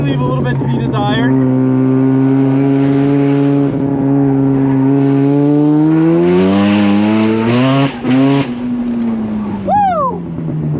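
A Mazda RX-7 FD rotary engine climbs steadily through the revs under acceleration, its buzzing tone rising in pitch before a quick gear change, loud and close from inside the car, with a voice briefly heard.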